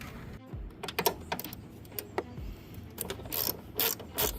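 A fastener is screwed in for a Jeep's rock-light ground wire, giving quiet, close, irregular clicking ratchet-like turns and small metallic rattles.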